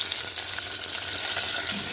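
Chopped onion, green chilli and tempering seeds fry in hot oil for a moong dal rasam, giving a steady, dense sizzle that stays loud and even throughout.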